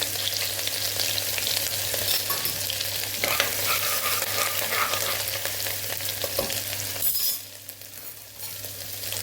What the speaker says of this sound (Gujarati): આદુ પણ ઉમેરી દઈશું।